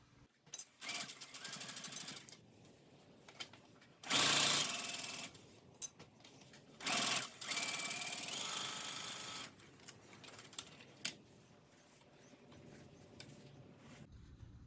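A sewing machine stitching slipper boot pieces together, running in short bursts of rapid mechanical chatter separated by quiet pauses and soft handling noises.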